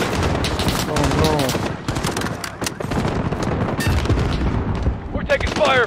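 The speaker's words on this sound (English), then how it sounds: "We're taking fire from the residence." Dense, continuous gunfire from a residence during a firefight in Call of Duty Modern Warfare (2019), bursts and shots layered loudly throughout with shouted voices mixed in.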